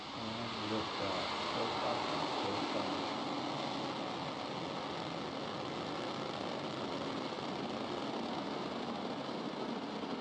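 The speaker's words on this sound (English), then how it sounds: "We have a successful liftoff. Falcon 9 has cleared the tower." SpaceX Falcon 9 rocket with Merlin 1D engines lifting off from Cape Canaveral, a steady, dense, broadband roar that holds constant for the whole stretch, heard from a distance.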